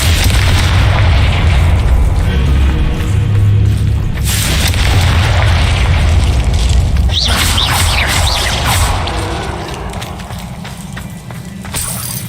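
Confringo fire spell exploding in the Hogwarts Legacy video game, a loud sustained booming blast with rumbling low end, steady roar that eases toward the end, with a brief whistling burst partway through.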